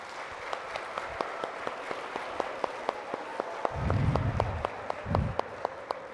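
A room of high school students applauds at a school outreach event, steady clapping with a few sharp close claps, joined midway by a low swell of cheering and crowd noise that rises and fades.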